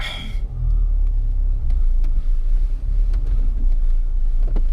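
Low engine rumble of a Renault Duster driving off-road in first gear with a manual gearbox, a steady close drone with faint rattles and wind buffeting.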